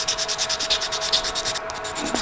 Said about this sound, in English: Sand with the grain, which is going to be like so.